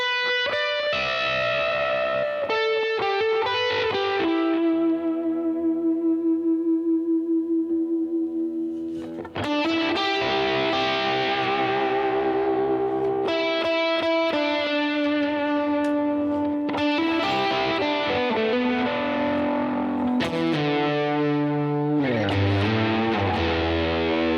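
Sustained, fuzz-distorted electric guitar notes and chords through a delay pedal ring out with echoing repeats trailing behind each phrase, loud and continuous with no voices.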